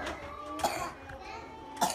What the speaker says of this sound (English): where'd that cough come from?